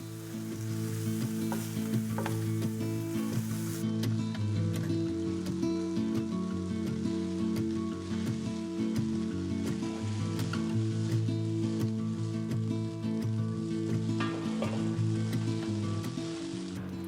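Basil curry fried rice sautéing with soy sauce, a steady close sizzle and crackle of frying with occasional stirring scrapes, continuous and alone without talk.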